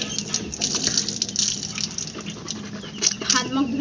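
Tap water runs steadily into a sink as someone washes their face after brushing their teeth at an outdoor washing spot, with splashing and small bursts over a continuous flow.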